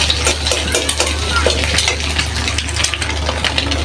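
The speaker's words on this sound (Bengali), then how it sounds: "ডিমটা ভাজা হয়ে গেছে, ভালোভাবে ভেজে নিচ্ছি।" Egg stir-frying in a pan for a potato and snake gourd curry, with a steady close crackle and repeated scrapes and clinks of a utensil against the metal pan throughout.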